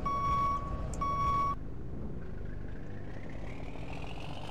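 Fire truck in Fire Engine Simulator sounding two loud, evenly spaced reversing beeps over a low idling engine, after which the diesel rumble carries on alone with a faint rising whine.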